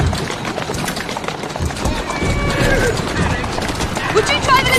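Horse hooves clip-clopping at a run in Assassin's Creed Syndicate, a steady rapid clatter with a whinny and game action noise mixed in, under occasional talk.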